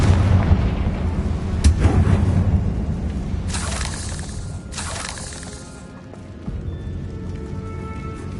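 Confringo fire spell blasting in Hogwarts Legacy, a loud booming explosion with crackling bursts and shattering debris heard through rumbling game ambience.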